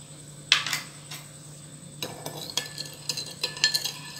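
Spoon stirring sugar into milk while making dinner rolls gives light metallic clinks and scrapes against the container. The sounds are quiet and close, with one tap followed by a busier run of stirring and no talking.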